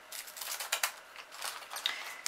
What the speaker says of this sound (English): I'm just going to do a bit of cutting